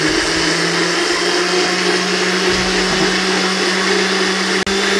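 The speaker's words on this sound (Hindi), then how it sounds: "इसको ऊपर कवर लगाएंगे, अच्छे तरीके से ग्राइंड करेंगे।" A blender grinds cucumber, mint, lime and a litre of water: a loud, steady motor whir holds at one pitch for the whole stretch, with one brief dropout near the end and no talking.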